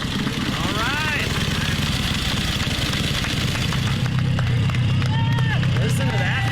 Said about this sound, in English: Listen to that thing. Oh my goodness, what a beautiful bike.